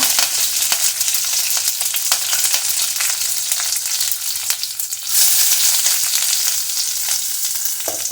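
Cumin, curry leaves and green chillies hit hot oil already holding mustard seeds for a tempering, giving a bright, continuous sizzle peppered with sharp crackles and pops, dipping briefly midway before surging louder again.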